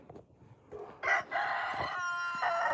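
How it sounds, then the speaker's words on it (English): A farmyard rooster crows loudly and close by, a short clucking start breaking into a long, strained cock-a-doodle-doo that holds steady, with no talking. "That rooster, man, that rooster."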